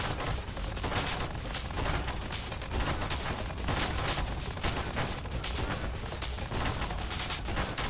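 Rapid, dense shots firing in the space shooter video game Nova Drift, a loud continuous barrage of crackling blasts with no pauses and no voices.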